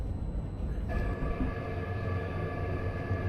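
EuroCity Danubius train pulling out of Vienna, heard from the rear as a steady low rumble of wheels and running gear, with a faint high whine from 0.0s and steady tonal hum lines emerging as it gets moving, with no voices.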